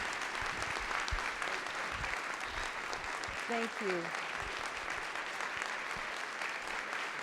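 An audience at a community college national event applauds the Secretary of Education, a sustained dense clapping that carries on as a brief voice speaks over it.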